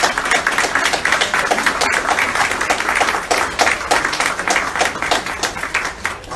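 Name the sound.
congregation applause for Jesus, Mary and Joseph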